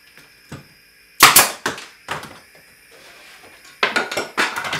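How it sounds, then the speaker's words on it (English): A nail gun fastening boards to a wall while building a tool wall: sharp percussive shots and clattering knocks in irregular bursts, close and loud, separated by near-silent gaps. "I just used my nail gun"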